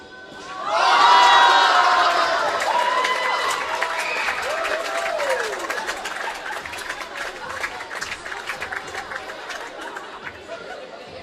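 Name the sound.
crowd applause and cheering at a basketball game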